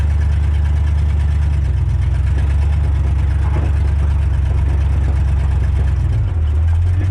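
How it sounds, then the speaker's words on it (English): A 1947 Ford Coupe engine running with an exhaust leak, a loud, steady low-pitched rumble with a rapid puttering pulse throughout, shifting slightly lower near the end, with no talking. "So we gotta fix that exhaust leak."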